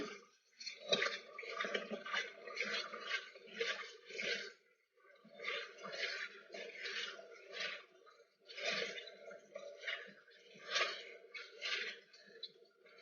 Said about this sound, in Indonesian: Ini saya bilas lagi ya dengan air mengalir.